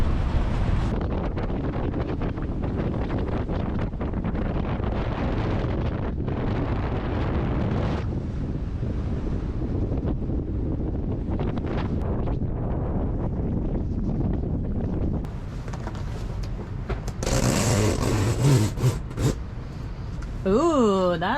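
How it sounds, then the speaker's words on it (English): Strong wind at sea aboard a sailboat roars and buffets steadily throughout, with a constant rushing noise, and people talk underneath; near the end the gusting grows louder and harsher. "Just windy as shit"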